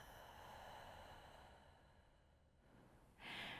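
A single soft exhale out through the mouth during a guided neck-relief breathing exercise, a faint, airy breath that gradually fades, followed by a brief sharper hiss at the end.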